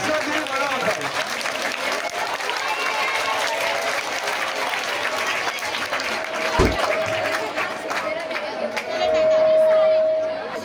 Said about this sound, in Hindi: तालियां वही बजाता है जिसका दिल बड़ा होता है।